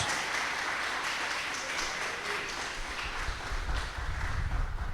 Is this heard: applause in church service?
yes